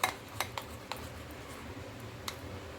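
Malpua batter with cardamom powder being stirred in a bowl, a spoon clinking against the sides in a few sharp taps early on and once more later, over a soft low scraping.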